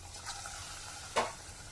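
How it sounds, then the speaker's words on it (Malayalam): Pakoda batter dropped into hot oil gives a low, steady sizzle with a soft plop, then one sharp burst of crackling frying, close by with no talking. "നമ്മുടെ ഇവിടെ ഓയിൽ ചൂടായിട്ടുണ്ട് ഇത് നമുക്ക് നമ്മുടെ പക്കോടെ മാവതിൽ ഇട്ട് കൊടുക്കാം"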